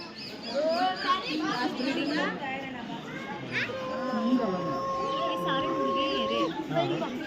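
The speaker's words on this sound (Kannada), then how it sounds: "ಇದು ಅಮೆಝಾನ್ ಗಿಳಿ ಅಂತೆ" Amazon parrots call and squawk in a busy zoo aviary at Bannerghatta National Park, Bengaluru, with long whistled tones and harsh chatter, while children's voices and crowd noise carry underneath.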